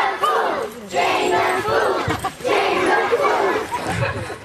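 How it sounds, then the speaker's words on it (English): An audience at a jester tournament at Muncaster Castle chants loudly in unison, rhythmic group shouting in repeated bursts with crowd cheering and chatter between phrases. "You will oblige me by chanting, Jane the Fool, Jane the Fool."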